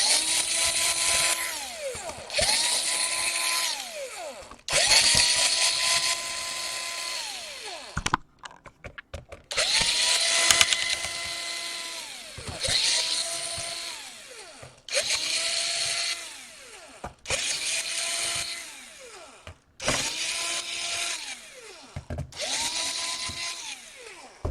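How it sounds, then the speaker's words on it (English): A power screwdriver spins out screws from a Dell Latitude 7250 laptop in about eight close, separate bursts, each rising to a steady whir and winding down, with brief pauses and clicks between them. "now we just unscrew everything here"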